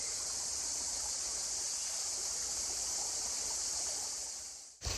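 A river flows in a continuous, even rush of water outdoors, a steady wash that cuts off abruptly just before the end.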